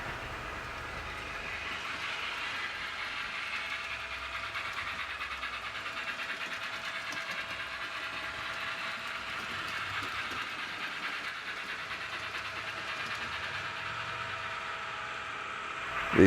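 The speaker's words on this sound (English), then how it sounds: "we'll see a Union Pacific train on the former Western Pacific tracks crossing in front of it" A running HO scale model Union Pacific train rolls along track on a model railroad layout, a soft steady rumble with faint clicking that holds evenly the whole time, no voices.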